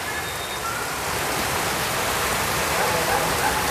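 Rain falls in a steady, even wash of noise outside a used motorbike dealer selling Honda Vario scooters, with no voices heard.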